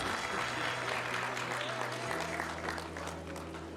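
Applause from the crowd at a Grade 12 graduation luncheon, sustained clapping and cheering filling the room while a steady tonal hum runs underneath.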